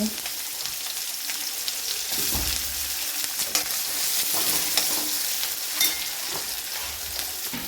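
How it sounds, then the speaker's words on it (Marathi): Onion sautéing in a pan with mustard seeds and cumin, a steady close sizzle that swells when the onion goes in, with scraping stirs and spoon taps throughout and no talking. "आता आपण कांदा टाकून घेणार आहोत या अशा पद्धतीने कांद्याला छान परतून घ्यायचे"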